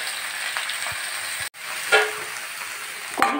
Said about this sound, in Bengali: নেড়ে চেড়ে ভালো করে ভেজে নেব।